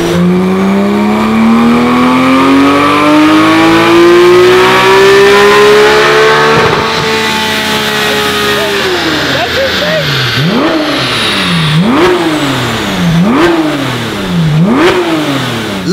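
Porsche GT3 engine on a dyno during a fourth-gear test run, a loud steady rising rev followed by several sharp repeated throttle blips that climb and drop, with people talking over the engine.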